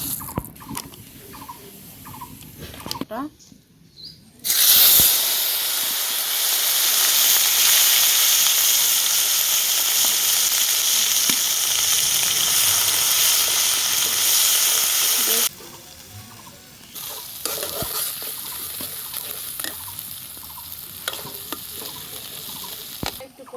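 Turmeric hits hot oil in a pan and a loud hissing sizzle bursts up, holding steady for about ten seconds before dropping back to quieter crackling and pan scrapes.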